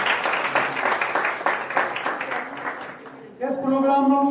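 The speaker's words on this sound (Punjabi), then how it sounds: "ਇੱਕ ਵਾਰ ਜ਼ੋਰਦਾਰ ਤਾਲੀ ਹੋ ਜਾਵੇ" An audience claps at a diabetes and hypertension workshop: sustained, fairly loud applause from a crowd that fades after about three seconds, then a voice speaks.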